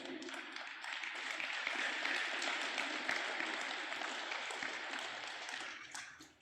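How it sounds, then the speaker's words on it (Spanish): A church congregation applauding during a sermon, a dense sustained patter of many hands clapping that fades out at the end. "le doy otro aplauso a papá"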